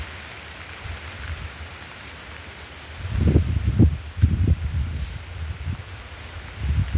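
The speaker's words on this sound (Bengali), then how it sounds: "আমি বৃষ্টির মধ্যেই কিন্তু ভিডিও করছি" Steady rain falls on a calm day with no wind, a soft constant hiss with heavier patters and drips coming through in the second half.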